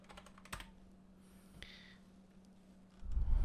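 Password typed on a computer keyboard as a quick cluster of close key clicks followed by a couple of isolated taps, quiet and alone before a louder thump at the end.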